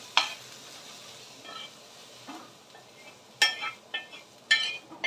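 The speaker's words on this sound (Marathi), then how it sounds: "कांदा छान भाजून घ्यायचा" Onion roasting in a pan with a soft background sizzle, broken by a few sharp clinks and scrapes of a spoon stirring against the metal, all close and fairly quiet with no one speaking.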